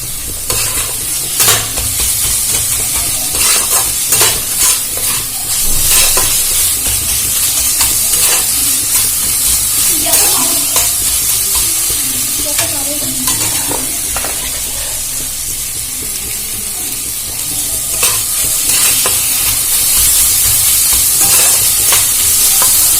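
Spices and salt being stir-fried in a hot pan, turmeric powder mixed through with steady sizzling and repeated scraping, stirring strokes, loud and close, with no talking.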